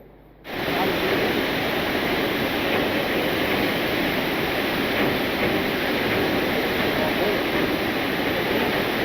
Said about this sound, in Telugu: గండికోట రిజర్వాయర్కు జమ్ములమడుగు ఎమ్మెల్యే ఆదినారాయణ రెడ్డి మరియు రాష్ట్ర మంత్రి బీసీ జనార్దన్ రెడ్డి నీటిని విడుదల చేశారు